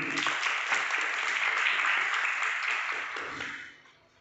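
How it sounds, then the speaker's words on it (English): A school audience gives a short round of applause, steady at first and then fading out over the last second. "Again, I will applaud for them"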